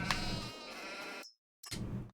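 Sheep in a farming video game give two bleats, the first long and wavering, then a short gap of silence before a second, shorter bleat, clear and close.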